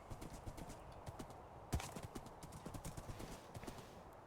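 A horse clip-clops along in a Minecraft SMP world, its hoof steps soft and steady in a quick walking rhythm, with one sharper thump midway and faint ambient sound beneath.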